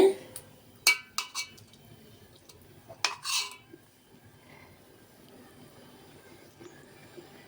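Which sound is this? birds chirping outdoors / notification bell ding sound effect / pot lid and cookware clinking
pot lid and cookware clinking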